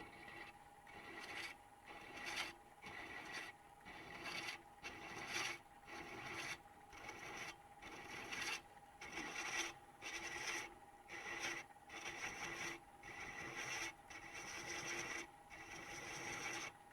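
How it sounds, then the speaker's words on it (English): Threads being cut into metal give a faint, rhythmic rasping, repeated scraping strokes coming roughly every half second with short gaps between them, quiet and close. "You can see those threads forming up."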